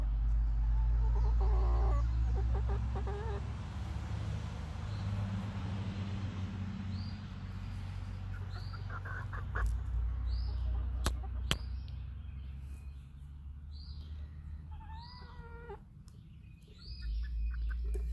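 A rooster clucks in a garden with short, scattered calls and bursts, mid-distance, over a steady low rumble of background noise. No one speaks.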